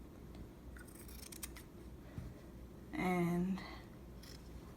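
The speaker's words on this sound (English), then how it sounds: "I'm gonna cut on top of the line because I really want to make sure that the fabric fits well" Scissors snip through denim while a jacket is cut along a marked line, a short loud crunching cut standing out over a steady background hum, with a brief spoken word nearby.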